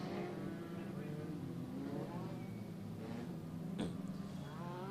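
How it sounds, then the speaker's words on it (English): Legend race cars idle and rumble as they pull off the dirt track at Maquoketa Speedway after a feature race, their engines droning steadily in the distance beneath a commentator's voice. "As the cars make their way off of the track."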